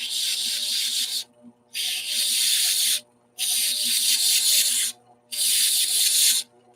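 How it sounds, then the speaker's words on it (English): Shellac sprayed from an aerosol can onto a spinning workpiece: four loud, close hissing bursts of about a second each, separated by short silent gaps, with a faint low hum underneath. "I have a can of spray shellac."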